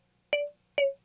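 Serum synth lead with EQ rolling off the highs and boosting the mids, two short detached notes with a warmer, duller tone, played alone with silence between.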